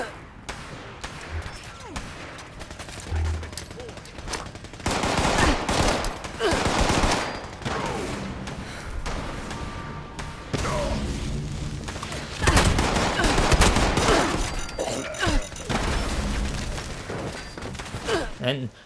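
Video game gunfire in Fallout 76 as mutants are cut down, with dense bursts of automatic fire and heavy booming impacts repeating through the stretch, loud and busy, mixed with game effects and a voice talking over it.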